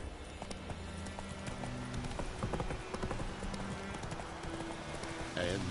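Roach, the horse in The Witcher 3 game, gallops with rapid rhythmic hoofbeats close up and loud, while a voice is heard over the running.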